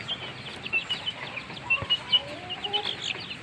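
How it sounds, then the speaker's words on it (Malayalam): Kadaknath black chickens and native brooding hens on a small farm cluck softly and repeatedly at close range, with scattered short calls overlapping and no talking. "കരിങ്കോഴിയും ഉണ്ട് അതിനകത്ത്"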